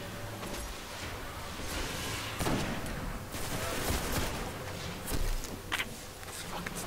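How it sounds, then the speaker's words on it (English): Sniper fire and other gunfire crack through a Heroic Vanguard strike in Destiny: Rise of Iron on PS4. Dense, noisy shots come in several louder bursts over a constant backdrop of battle sounds. "It's fucking snipers, bro."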